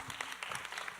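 Audience applause at a municipal council session honoring a guest professor, a short burst of steady clapping from a room full of people.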